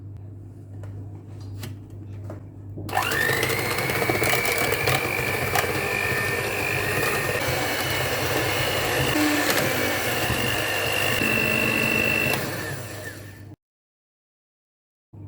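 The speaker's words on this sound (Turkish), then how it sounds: "Üzerine bir su bardağı toz şeker ilave edip krema haline gelene kadar yaklaşık 5 dakika çırpıyoruz." An electric hand mixer whisks eggs with sugar into a cream for an orange chocolate cake. It starts abruptly, keeps a steady whirring motor drone with faint bowl rattle for about ten seconds, then cuts off to silence, with no talk.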